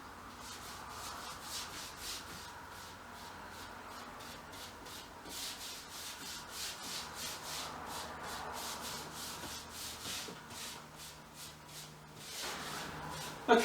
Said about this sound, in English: And we'll start to apply our second coat.